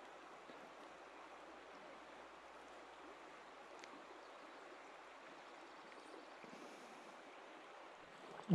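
Montmorency River flowing, a steady broadband rush of moving water that stays even and moderately faint throughout, with no voices.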